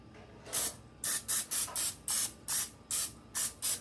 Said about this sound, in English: spray with the Pam